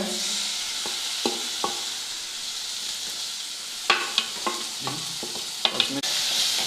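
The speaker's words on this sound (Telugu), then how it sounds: "టమాటీలు పచ్చిమిర్చి వేసుకొని బాగా వేపుకోవాలి" Tomato pieces and green chillies frying in a pan for bread upma, with a steady sizzle throughout and several sharp clicks and scrapes of a spoon stirring against the pan, close and alone.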